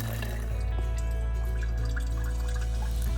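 Water draining from an opened sprinkler system drain in a yard, a continuous close gushing and trickling with a strong low rumble, steady from start to end.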